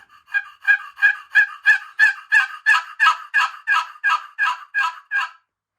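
A friction turkey call scratches out a steady run of about fourteen raspy yelps, evenly spaced and fairly loud, with no talking.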